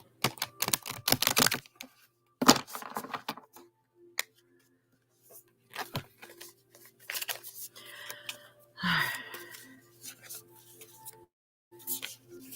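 Tarot cards shuffled by hand during a live reading, heard as close, crisp bursts of riffling and snapping card noise separated by short pauses, over a faint steady hum.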